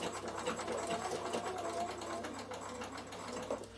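A Bernina sewing machine stitches wool appliqué on a draught stopper with a steady, continuous motor whir and needle clatter, close and even throughout with no voices.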